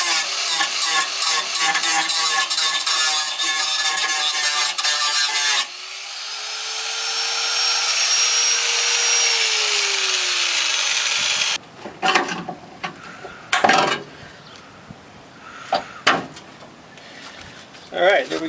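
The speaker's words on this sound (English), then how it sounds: "I may have to grind that one just a little bit more" Power grinding on a part during teardown of a 1977 MGB roadster, a steady loud abrasive whine that shifts pitch partway, then stops and gives way to clattering handling noises.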